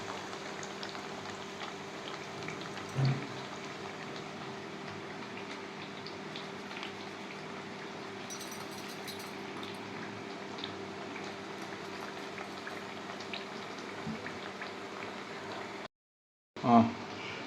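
A pot of water with peanuts boils gently on the stove, a soft steady bubbling with faint irregular ticks and one or two louder pops, quiet and close.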